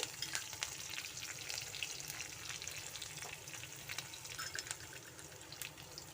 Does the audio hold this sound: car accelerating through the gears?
no